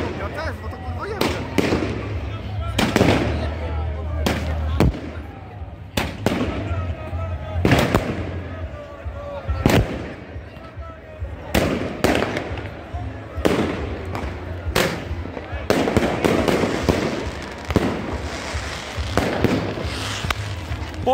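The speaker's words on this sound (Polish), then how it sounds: "wybuchy fajerwerek się nagrały" Fireworks and firecrackers going off on New Year's Eve, a long run of repeated sharp bangs at irregular intervals with crackling in between, while voices chatter and shout close by.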